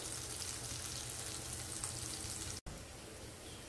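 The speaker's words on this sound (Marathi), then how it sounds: "हे मस्त आता दोन्ही बाजूने आपले हे मोदकं चांगली खरपूस फ्राय झालेली आहेत" Small silver fish (modak) fry in hot oil in a pan, giving a continuous, even crackling sizzle at low level with a brief dropout near the end.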